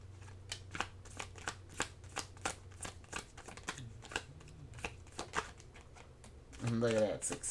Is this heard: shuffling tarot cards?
yes